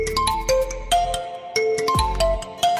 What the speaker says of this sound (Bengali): আপনার নিজের নামে রিংটোন তৈরি করতে পারবেন এবং নিজের ফোনে তা ব্যবহার করতে পারবেন